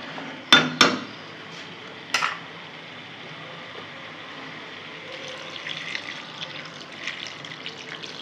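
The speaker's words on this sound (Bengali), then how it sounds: "এখন আমি জল দিয়ে দেবো গ্রেভির জন্যে।" Water is poured into a pan for a dal bori vegetable gravy, a couple of sharp clinks of utensils against the pan followed by a soft, steady trickle and fill, close and alone.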